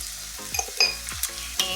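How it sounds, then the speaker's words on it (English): Scrambled eggs with a splash of oat milk scraped and stirred in a pan, a close sizzle under repeated spatula scrapes that come in short uneven strokes. "Mix these around a little bit more."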